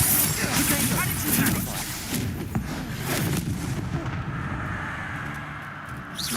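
Confringo blasting spells from Hogwarts Legacy burst in a dense barrage of booming, crackling explosions during a wand duel, loud and continuous throughout with a shouting voice mixed into the chaos.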